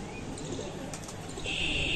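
Sialkoti pigeons, young birds from a breeding pair, coo softly in a short burst against steady background noise, with no talk.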